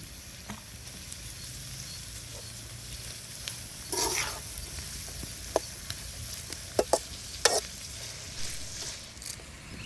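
Cut green chillies frying in a pan of ghee for chicken ghee roast, a steady close sizzle with a few sharp bursts and light clinks of a stirring spoon.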